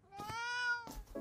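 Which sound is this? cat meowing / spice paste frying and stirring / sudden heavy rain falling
cat meowing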